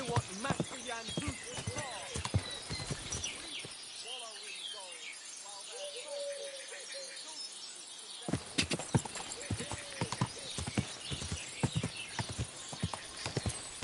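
Horse hooves clip-clopping in the medieval video game Kingdom Come Deliverance II, a rhythmic run of hoofbeats that drops out briefly, with voices and insect chirps around them.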